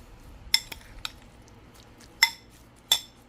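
Spoon clinking against a bowl while mashed avocado is mixed for mahi mahi fish tacos, with a few sharp close taps spread out over quiet, soft stirring.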